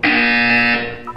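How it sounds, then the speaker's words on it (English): A loud, steady electronic buzzer from the Portal 2 video game sounds once for just under a second, then cuts off. "When you hear the buzzer, look down at the floor."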